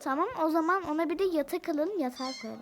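A cartoon cat in the Toca Boca video game gives a series of meows, overlapping with children chatting in Turkish.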